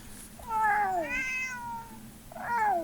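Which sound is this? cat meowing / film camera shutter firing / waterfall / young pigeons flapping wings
cat meowing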